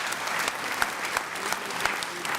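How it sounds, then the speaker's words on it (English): Audience applause for honorable members at the Eastern Capec State of the Province Address, a dense steady clatter of many hands with a few sharper claps standing out, moderately loud throughout. "We can give a clap for honorable members."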